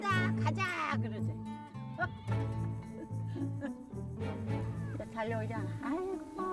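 Goats roaming a whole island bleat several times, wavering and fairly close, mixed under a person speaking and other background sound.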